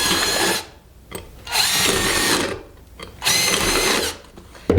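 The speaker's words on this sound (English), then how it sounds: "take a driver and I'll probably put 3 holes in, and I do it a stack at a time" Power driver boring drainage holes through a stack of plastic pots, three loud whining bursts of about a second each separated by brief pauses, close and with no talking.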